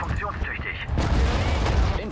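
A sniper rifle firing in Sudden Strike 4, a WWII strategy game, during a factory assault, with heavy booming shots over a rumbling battle din, and some talk underneath.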